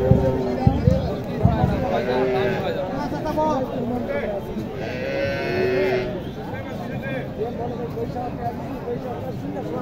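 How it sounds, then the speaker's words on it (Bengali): A large Sahiwal cow moos at a busy cattle market in Naogaon, its low calls rising over the steady murmur of a crowd, with people talking nearby. "বেশ বড় সড় একটি গাভী।"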